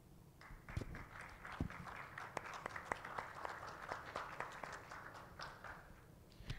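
An audience applauds at a Spanish-language certification ceremony broadcast, with scattered, moderately distant hand claps that stay fairly sparse and uneven throughout.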